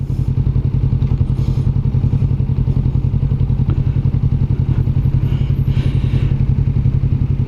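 A 2021 Kawasaki Vulcan S motorcycle runs with a steady, close engine throb, its rhythmic low pulse continuous throughout, with faint clunks and clatter from gear shifting mixed in.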